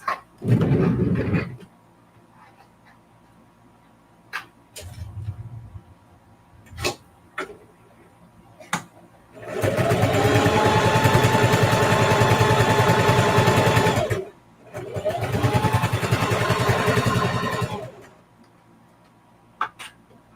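A sewing machine quilts a zipper pouch, with two long runs of loud, fast mechanical stitching, the second shorter, set among scattered clicks and ticks and a brief low rumble.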